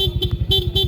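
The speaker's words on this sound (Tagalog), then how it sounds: "Pag nakapatayan, yung stock na busina yung tutunog." Stock horn on a Yamaha Aerox V1 scooter, a loud, close, bright electric tone sounding in quick repeated short pulses.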